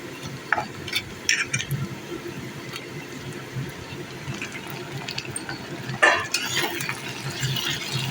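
Mutton fries and gets stirred in a pan, making a faint sizzle broken by a few scraping stir strokes, with a louder scrape near the end.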